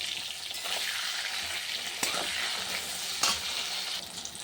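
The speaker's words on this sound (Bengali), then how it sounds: "এই দেখো তেলটা গরম হয়ে গেছে, আগে একটু বেগুনটা ভেজে উঠিয়ে নিই।" Eggplant sizzles steadily in hot oil with salt and turmeric added, a continuous close frying hiss broken by a few sharp crackles and the clink of stirring.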